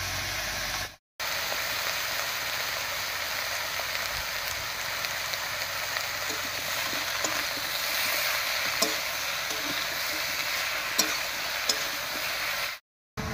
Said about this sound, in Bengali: মা একটু সবজিটা নাড়িয়ে দিচ্ছে